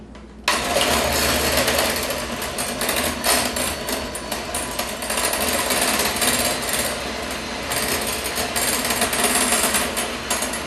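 Two egg whites with salt being whipped until foamy, heard as a loud, close, continuous mechanical whir that runs without a break for the whole stretch.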